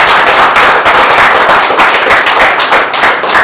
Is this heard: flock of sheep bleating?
no